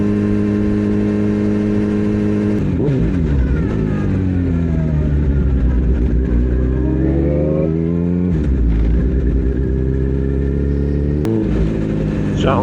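A Suzuki Hayabusa motorcycle fitted with a Brocks Alien Head slip-on exhaust idles loudly and close, then is revved in several rising and falling throttle blips over a steady rumble.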